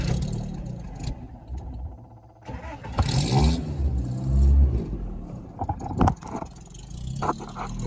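A car with an electronic fuel pump and over 336,000 miles cranks, catches and revs up, then drops to a steady idle around 750 RPM, loud and close with no talk.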